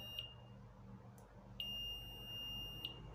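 Steady high-pitched electronic beeps from a multimeter continuity test on a fan, a short one, then a long sustained tone with a brief chirp at its end, over quiet low hum.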